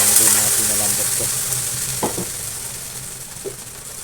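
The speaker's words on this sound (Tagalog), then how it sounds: "lagyan natin ng munggo na pinalambot ko" Softened mung beans hit a hot frying pan with a steady, close sizzle that slowly fades, broken by a few faint clicks of stirring.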